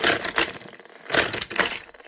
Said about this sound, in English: That's what's causing the little ding.